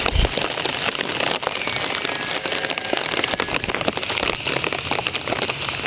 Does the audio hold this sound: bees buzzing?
no